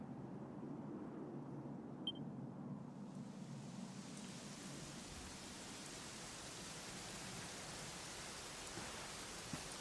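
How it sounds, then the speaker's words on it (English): Steady rainfall in the Dragon Quest XI video game, a continuous soft broadband hiss that holds evenly for the whole stretch, with no voices over it. "it was raining like this"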